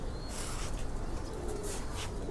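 Stock pigeons coo together in a loft, soft overlapping throaty calls against a steady hissing background.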